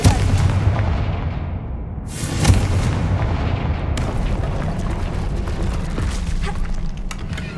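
Confringo fire spell explosion in the Hogwarts Legacy video game, a loud booming blast around the middle with a dense rumbling, crackling wash of battle noise before and after it.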